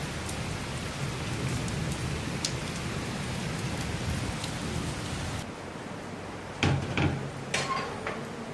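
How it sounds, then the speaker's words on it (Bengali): Steady heavy rain hisses throughout, dropping away partway through, followed by a few sharp knocks and thuds nearby. "এখন দেখাবো এইখানে কেমন জোরে বৃষ্টিটা হচ্ছে।"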